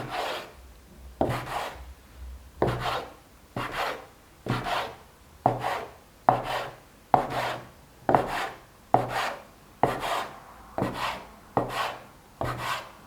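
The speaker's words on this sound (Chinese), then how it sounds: "揉好的面团直接搓成长条状， 切成大小均等的面剂。" Knife cutting a log of rolled dough into equal pieces for pocket bread, steady rhythmic chops about once per second, each a short dull thud on the board, close and alone with no talking.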